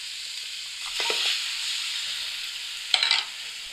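Mutton sizzles in a pan with fried garlic and onion for haleem, a steady frying hiss broken by a few stirring scrapes and louder spits.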